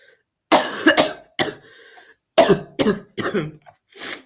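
Several sharp coughs in irregular bursts, close and fairly loud, with short silent gaps between them.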